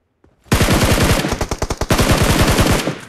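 Automatic gunfire in the PUBG Mobile video game, a loud close burst of rapid shots after a brief quiet start, continuing in fast repeated volleys.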